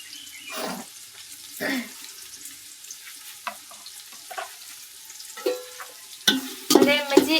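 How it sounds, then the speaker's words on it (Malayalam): Carrots and other vegetables fry in a pot with ghee, cinnamon, cloves and cardamom as a spoon stirs them, making scattered scrapes and soft sizzles amid quiet gaps, with a voice joining near the end. "അത് രണ്ടും കൂടെ മിക്സ് ആക്കിയിട്ട് ഇളക്കുന്നുണ്ട്"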